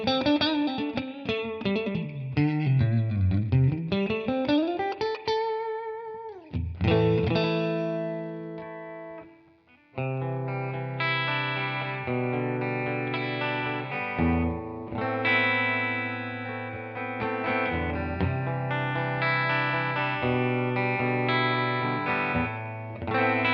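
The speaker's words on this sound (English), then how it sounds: "I'm just going to add a spring reverb pedal" An electric guitar through a Joyo American Sound pedal and a spring reverb pedal plays sustained chords and melodic runs, drenched in a splashy, echoing reverb that lingers after each note.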